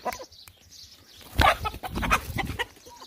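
Rooster battered from repeated fighting, giving short clucking and squawking calls amid rustling and handling noises, close by, with no speech.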